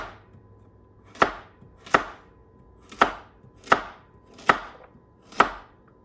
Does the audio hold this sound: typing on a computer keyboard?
no